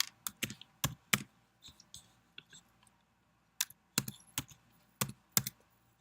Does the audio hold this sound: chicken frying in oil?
no